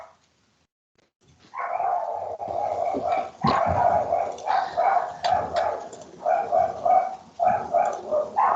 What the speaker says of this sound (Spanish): Oh, los perros.